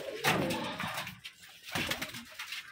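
Rajshahi Giribaz pigeons coo at a loft, two rounds of soft, throaty calls close by with brief rustling between.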